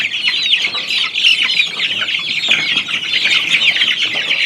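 A flock of one-month-old chicks just moved into the coop cheeps and chirps continuously, a dense chorus of high, overlapping peeps close by with no pauses.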